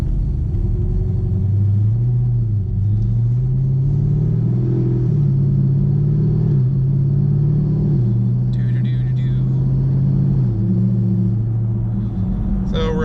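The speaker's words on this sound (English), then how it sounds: "I'm driving uphill with my foot into the gas" A cammed Chevrolet Camaro SS pulls uphill under throttle, its engine a loud, steady low rumble with rising and falling drone from inside the car, and a few faint clicks over it.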